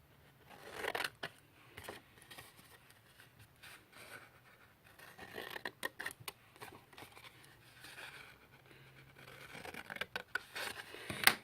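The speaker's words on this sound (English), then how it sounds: "we're going to cut these to make some flaps." Scissors cutting flaps into the cardboard bottom of a Valentine candy box, giving faint, close snips, rubs and scratchy cardboard sounds at irregular intervals that grow busier toward the end, no talk.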